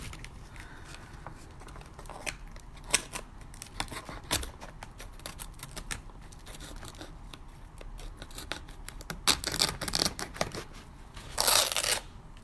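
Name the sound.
X-Acto knife cutting and tearing book pages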